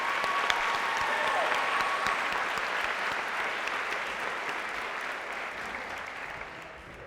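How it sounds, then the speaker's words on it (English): Audience applause at a Robert Brown High School graduation ceremony in June 2015: a dense, steady wash of many hands clapping together, sustained at full strength and tapering slightly toward the end. "I believe these people deserve a round of applause."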